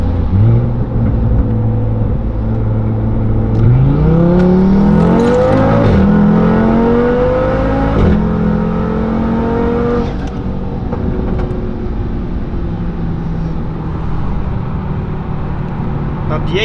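Audi TT RS Stage project car engine revving and accelerating, a loud, close, sustained roar with rising pitch sweeps as it climbs through gears, with voices talking over it.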